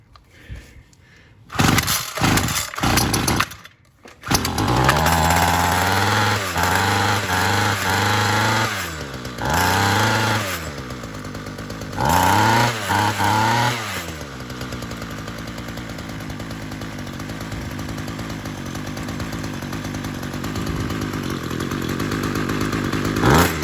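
A Homelite UT32650 two-stroke string trimmer, cold after months in storage, coughs through several pull starts and then catches. It runs loud and close, revving and bogging in uneven bursts before settling into a rough, slightly rich idle.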